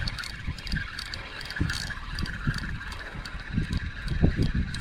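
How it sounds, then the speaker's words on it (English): Wind gusts across an open beach during surf fishing, a steady rough rumble with buffeting low bursts against the microphone, loud and continuous throughout with no talking. "the wind's already trying to take my hat"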